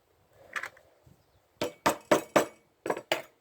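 A chisel is struck into wood while cutting joinery for a rolling cart: a soft tap, then a run of six or seven sharp, close mallet blows in an uneven rhythm, with no talk.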